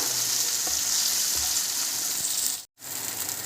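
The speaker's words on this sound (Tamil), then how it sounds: "கொஞ்ச நேரம் வந்து லைட்டாக வந்து ஃப்ரை பண்ண வச்சுருவோம்" Cut idli pieces frying lightly with masala in a pan, giving a steady, close hiss that runs nearly unbroken and drops out briefly near the end.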